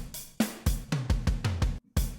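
Drum hits recorded in Pro Tools, about eight loud close strikes in a steady rhythm, with one hit cut off abruptly into a brief dead silence before the pattern resumes.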